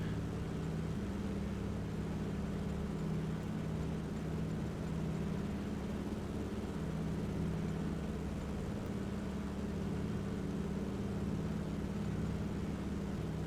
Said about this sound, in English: This is an old airplane with a big radial engine.